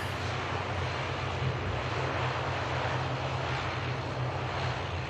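A fixed-wing airliner departing Manchester Airport and banking right roars as a steady, broad engine rumble at a distance, with some wind noise over the microphone and no voices.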